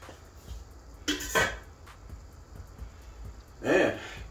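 A lid goes onto a pot of about six cups of garbanzo beans on a stovetop. Two distinct metallic clanks ring out up close, the second louder and more resonant, with quiet kitchen ambience between them and no speech.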